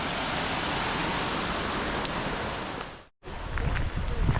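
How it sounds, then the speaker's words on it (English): Steady, broad rushing of water pours continuously over a nearby stream weir, briefly cut off near the end before resuming with the same roar. "Come across a bit of a weir. They call in the UK a waterfall."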